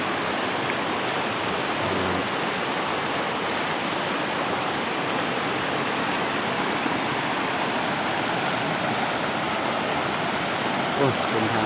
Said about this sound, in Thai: โอ้น้ำไหล